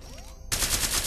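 Rapid automatic gunfire in the VR shooter Larcenauts on Oculus Quest 2 erupts after a brief quiet moment and continues as a loud, dense burst of shots to the end.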